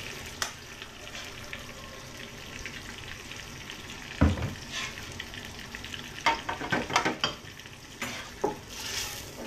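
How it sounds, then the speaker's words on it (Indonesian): Laksa spice paste for a rich crab laksa sizzles and fries in a pan, a steady crackle broken by several louder scrapes and clatters of stirring. "Saya akan mula tumis saya punya paste."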